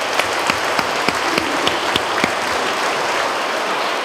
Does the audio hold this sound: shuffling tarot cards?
no